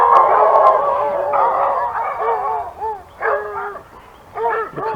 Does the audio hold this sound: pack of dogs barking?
yes